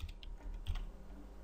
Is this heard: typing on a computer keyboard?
yes